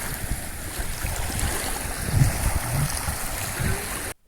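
Tide comes in on the Forth River at sunset, a steady broad wash of water and gentle surf with wind rumble, fairly loud and continuous, a few louder swells midway before it cuts off abruptly.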